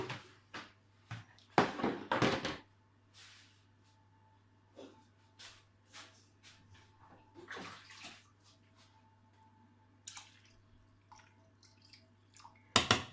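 Water poured onto plant roots in a container, giving short splashing bursts and trickles with quiet dripping gaps between them, close and fairly soft.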